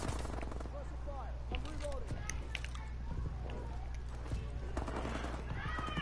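Call of Duty: Advanced Warfare multiplayer gunfight with a steady stream of rapid gunshots and bursts over a low droning bed, dense and continuous for the whole stretch, with a voice talking over the action.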